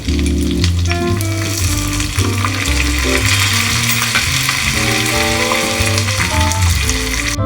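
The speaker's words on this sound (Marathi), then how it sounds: "मोहरी टाकलेली आहे, त्यानंतर जिरं टाकायचं आहे, त्याच्यानंतर मिरच्या टाकायच्या आहे" Mustard seeds, cumin and chillies sizzle loudly in hot oil for a tadka, a dense continuous crackle and spatter with faint stirring, close and steady throughout.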